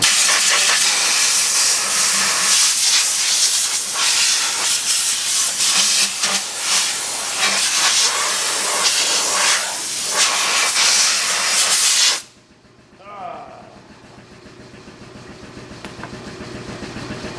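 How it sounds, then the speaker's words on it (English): Air compressor running loudly at a sawmill with a steady broad hiss, then cutting off abruptly, leaving a quieter low background hum. "Air compressor's working."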